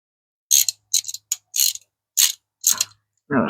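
Sharp ratcheting clicks from a wrench working 10 mm bolts on the intake of a 2024 Honda Civic Si, coming in about six short close bursts with pauses between them, and a brief rougher scrape at the end.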